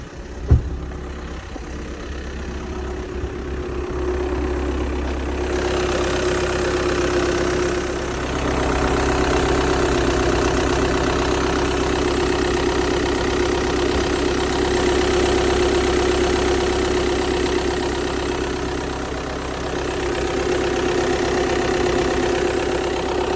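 A VW Tiguan engine idles steadily with the hood open, a continuous close, even hum with a faint knocking texture and a brief thump at the start, no speech over it.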